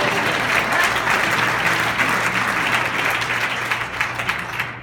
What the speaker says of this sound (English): Yes, that's a clap.